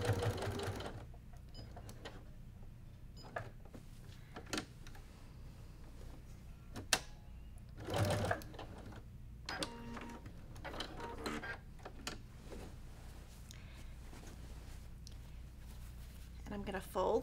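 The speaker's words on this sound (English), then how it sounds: "I'm stitching a quarter inch away from the edge of the quilt top." A sewing machine stitches quilt binding a quarter inch from the edge of the quilt top, running in short bursts with pauses, clicks and handling noises, under quiet talk.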